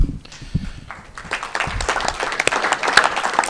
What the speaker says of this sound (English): A nice little golf clap